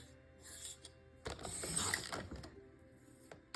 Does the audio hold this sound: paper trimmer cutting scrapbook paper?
yes